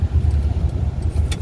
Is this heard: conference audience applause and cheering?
no